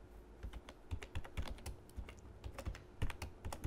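Steady typing on a computer keyboard while code for a singly linked list program is entered, a close run of irregular key clicks with occasional louder strikes and no talking.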